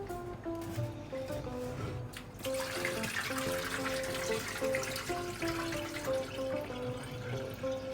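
Abacha, shredded African Igbo cassava, being washed in a bowl of fresh water, a continuous close splashing and sloshing churn with trickles and drips, set against a steady background hum.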